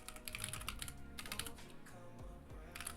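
Rapid typing on a computer keyboard, close and clear, with quick uneven bursts of clicks over a faint steady background tone.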